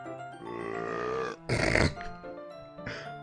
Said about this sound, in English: I decided to let out a loud burp